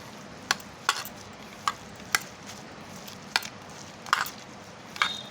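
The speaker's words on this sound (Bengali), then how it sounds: "একটু চেপে চেপে আপনারা মেখে নেবেন তাহলে দেখবেন আমটাও খুব সুন্দর এর সঙ্গে নরম হয়ে যাবে" Ripe mango is kneaded by hand with ground mustard paste for homemade kasundi, giving about seven soft, wet squelching presses at irregular intervals over a quiet background, with no talking.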